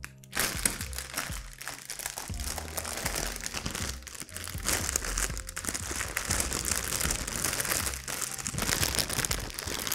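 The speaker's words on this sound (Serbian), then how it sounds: "i trebate pokušati da izgurate sam vazduh iz nje za početak." A plastic bag is crumpled and squeezed to push the air out, giving continuous close crinkling and crackling that grows slightly louder toward the end, with no speech.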